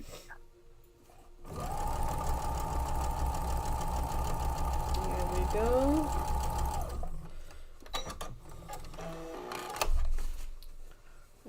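Sewing machine stitching in a steady, rapid mechanical hum and clatter for about five seconds, close and loud. A voice speaks briefly afterward.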